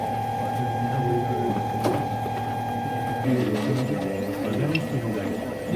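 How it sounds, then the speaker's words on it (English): A Monoprice 3D printer starts a print with a steady motor whine, then shifts into soft stepping and whirring movement sounds, close by and moderately quiet. "And then from there, the printer should start."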